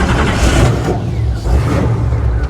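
A 1970 Chevelle's engine runs and revs with a rumbling, mid-pitched roar that swells and eases in a couple of surges, loud and close, with no talk over it.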